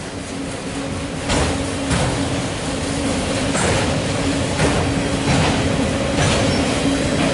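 A CSX autorack freight train rolling steadily past nearby, wheels clacking rhythmically over rail joints with a continuous loud rumble.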